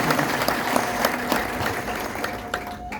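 Congregation clapping in a church during a sermon, a steady wash of crowd applause that thins out toward the end, with no talk over it.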